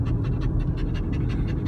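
A dog pants steadily outdoors on a mountain outing in autumn, its quick rhythmic breaths close and loud over a constant low rumble of wind or handling noise.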